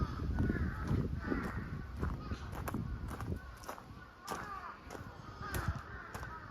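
Birds call repeatedly at a distance at Hisaizu Shrine in Iwatsuki, Japan, with harsh cawing cries over steady outdoor background noise and some soft voices.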